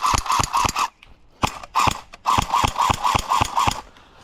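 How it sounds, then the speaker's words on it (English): An airsoft submachine gun with electric blowback fires in rapid mechanical bursts, each a quick run of sharp clacking cycles, separated by short pauses, loud and close with no voices. "Gotta love that electric blowback."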